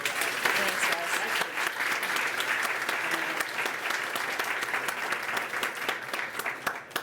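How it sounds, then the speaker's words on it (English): An audience applauds a chef with sustained, dense clapping throughout, while a voice talks over it. "A round of applause, ladies and gentlemen."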